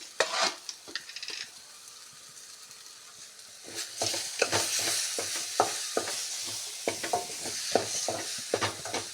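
Masala with salt frying and being stirred in a pan for jackfruit palya, with soft sizzling under repeated close spoon scrapes and clatters that grow busier in the second half.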